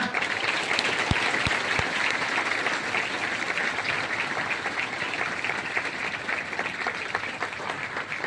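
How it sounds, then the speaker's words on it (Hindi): Loud, sustained applause from a large crowd at a church convention, a dense steady clatter of clapping hands that carries on for the whole stretch without letting up. "जोरदार तालियां।"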